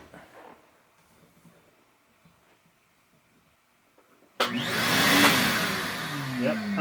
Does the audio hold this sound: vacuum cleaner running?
yes